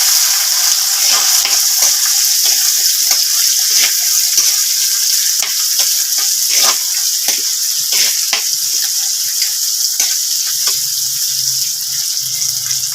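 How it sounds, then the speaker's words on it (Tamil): Onions, garlic, green chilies and curry leaves sauté in a pan for a fish curry, producing a continuous bright sizzle with intermittent stirring clicks and scrapes, close and fairly loud, with no speech. "இப்போ வெங்காயம் வதங்கிடுது."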